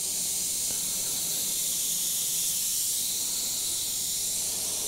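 An airbrush sprays paint around a coin laid as a mask over a starburst design, giving a steady, even hiss of air and paint that runs unbroken throughout at moderate level with no voices.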